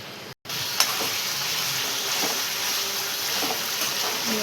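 Shrimp and potatoes sauté in a pan with a steady, even sizzle that hisses on without pause after a brief cut near the start, with a few light clinks mixed in.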